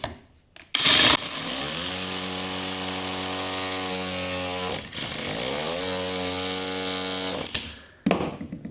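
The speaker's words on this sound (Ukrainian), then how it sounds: "А ще ця насадка має зрізати саморізи і цвяхи." An angle grinder fitted with an oscillating renovator attachment, used to cut screws and nails, runs in two loud sustained bursts with a steady harmonic whine that winds up and runs down, separated by a brief pause and no talk.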